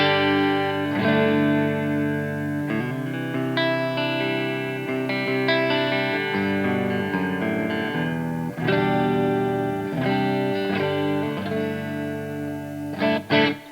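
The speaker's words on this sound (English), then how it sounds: "Let's do some clean tones now, or some cleaner tones," A Shergold Telstar electric guitar played through a clean or lightly driven tone, ringing chords and single notes struck in a loose rhythm with sustained, overlapping decay and a few sharper picked accents near the end, loud and alone.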